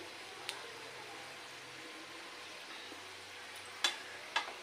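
Patha pitha frying in oil in a pan, a steady soft sizzle throughout, with a few quiet clicks as the pieces are flipped with a spatula; nobody speaks.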